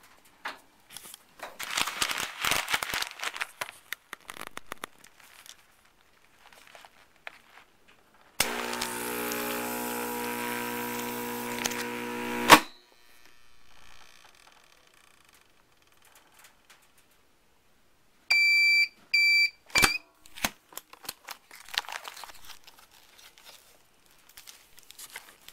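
A DZ 280 2SD vacuum sealer machine sealing a bag of beans runs as a steady humming pump for about four seconds, then fades, with a few sharp clicks later in otherwise quiet surroundings.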